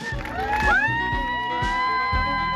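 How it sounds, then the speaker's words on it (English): A crowd at the Chincoteague pony penning raffle cheers and whoops for the winner of a pony, with excited voices and shouts rising together over a steady outdoor murmur of spectators. "A rustle deep in the crowd and cheers from spectators indicate before we ever see the recipient that other ticket holders are happy for the winner"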